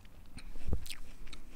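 A single crisp bite into a small, juicy organic apple, then a brief soft crunch of chewing, heard up close and quiet with no talking.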